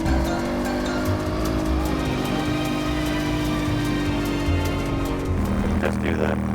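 A noisy car drives along with a loud, steady engine roar and rattling road noise that fills the whole stretch, changing pitch slightly near the end.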